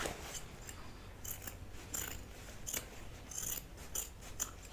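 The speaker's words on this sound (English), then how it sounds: "Don't catch your bag in your scissors." Scissors snip repeatedly at close range trimming fabric while sewing a bag, sharp quiet cuts in an uneven rhythm over a faint background hum.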